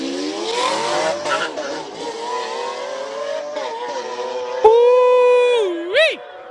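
A Lamborghini Aventador engine revs hard and climbs in pitch as it accelerates uphill at a Cape Town hill-climb event, with a sharp jump near the end and a crowd faintly audible underneath.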